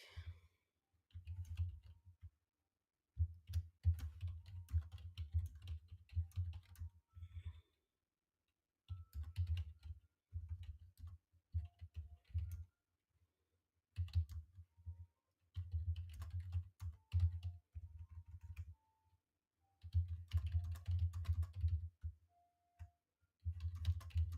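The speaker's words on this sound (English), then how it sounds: "I'm typing something real quick" Someone types on a computer keyboard in quick bursts of close, crisp key clicks, separated by short pauses, with no voices.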